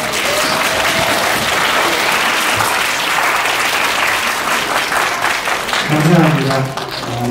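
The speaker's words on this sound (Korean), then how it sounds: "올해와 같은 박수와 함성을 보내주시기 바랍니다" Wedding guests in a Seoul penthouse hall fill the room with loud, continuous applause and cheering after the officiant's address, with a voice rising through it near the end.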